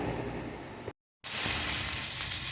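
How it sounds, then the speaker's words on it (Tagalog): Fatty pork pieces sizzle in a hot pan as their fat renders into oil, a steady, dense crackle that breaks off briefly and then comes back louder and brighter. "Unahin muna natin ang taba-taba. Papalabasin natin ang mantika niya."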